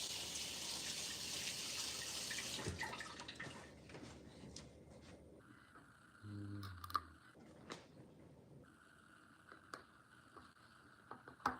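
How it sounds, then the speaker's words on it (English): A kitchen tap runs with a soft steady rush as a knife is rinsed under it, then cuts off, leaving faint drips, small clatters and quiet handling noises; the whole sequence is low in level. "Wash my knife off."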